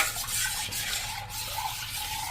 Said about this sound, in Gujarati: વિમ લિક્વિડ મિક્સ કરી દેશું.